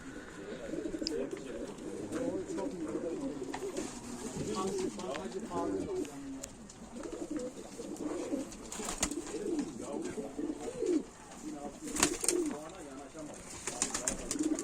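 Pigeons, white Arab-type play birds kept by a breeder, coo steadily throughout in a close indoor loft, with soft repeated cooing phrases and some background voices and bird rustling.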